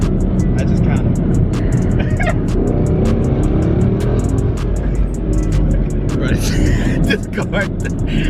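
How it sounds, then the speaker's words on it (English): A 1000+ hp twin-turbo rear-wheel-drive Mustang GT roars loudly from inside the cabin as it spins and burns its tires, a sustained harsh engine and tire din with people talking over it. "It's burning the tires up."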